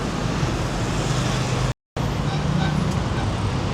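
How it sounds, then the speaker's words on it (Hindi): Evening street traffic in Bangkok rumbles and hisses continuously close by, a dense wash of passing vehicles broken by a brief dropout. "ये बैंकॉक का ट्रैफिक"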